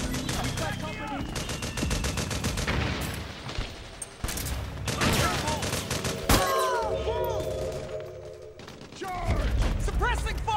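Gunfire in Metal Gear Solid 4: Guns of the Patriots, with rapid machine-gun bursts and scattered single shots in a chaotic firefight, interrupted by brief pauses, mechanical clatter and shouted voices.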